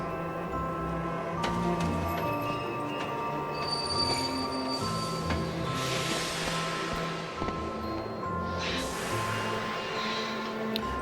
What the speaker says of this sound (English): There's the magic train.